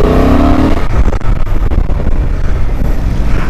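A Honda Transalp XL750 adventure motorcycle on a road ride, its mid-range engine droning loud and steady with a rising rev at the start, backed by a constant rush of wind.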